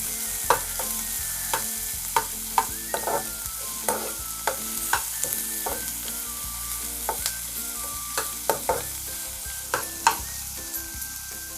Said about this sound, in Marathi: कांदा लाल करून घेऊया.